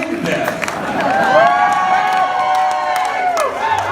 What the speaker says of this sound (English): Not that much applause for that.